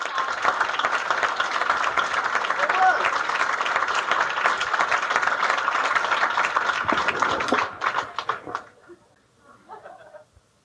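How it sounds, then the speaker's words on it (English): A studio audience at a comedy show claps and cheers steadily for a comedian, dense and loud for several seconds before the clapping thins out and fades near the end. "Let's have a big round of applause for Yakov Smirnoff."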